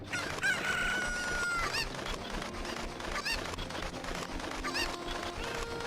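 Cucco chickens in Zelda: Ocarina of Time squawk in repeated bright crowing bursts over a dense, steady game music bed, with no talking.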